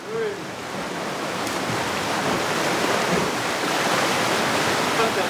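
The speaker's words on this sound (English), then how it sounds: "Watch out, the current's really strong." A strong current rushes through a sea cave in Polynesia, a loud, continuous roar of churning water that fills the space evenly throughout.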